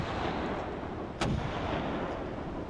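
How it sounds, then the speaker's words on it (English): A single sharp gunshot cracks once midway through a low, steady rumbling background, standing out briefly and sharply before fading. "Were those gunshots?"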